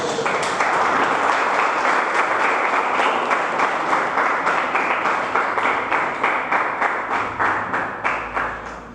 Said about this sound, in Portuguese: Dá um glória, aplaude a Jesus.